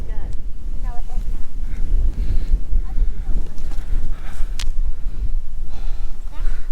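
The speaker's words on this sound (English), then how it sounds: "Face the wind." Strong wind roars across a mountain summit at Black Balsam Knob, a steady loud buffeting rush on the microphone that persists throughout, with a few faint voices under it.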